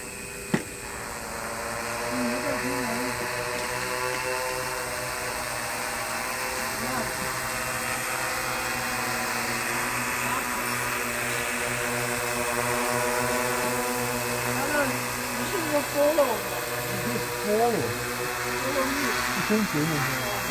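A small mapping drone carrying an A7R board flies on an automatic mission, giving a steady, close buzzing whine of rotors that holds throughout while people talk over it.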